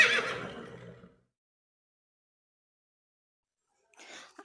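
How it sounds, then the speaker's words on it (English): A horse neighs loudly and close, a shrill whinny that fades out, followed by silence and then a shorter breathy snort or second whinny at the end. "H for horse."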